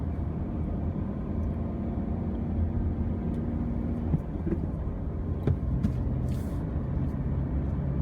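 A Subaru Crosstrek with manual transmission driving and slowing down, heard from inside as a steady low road and engine rumble with a couple of faint clicks, no talking.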